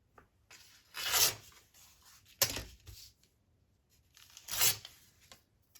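Paper is torn three times for an upcycled envelope collage, each a short, crisp, close rip separated by quiet pauses.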